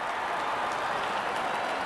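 A crowd roars and cheers in a cricket video game, a dense, steady wash of noise that holds evenly without breaks.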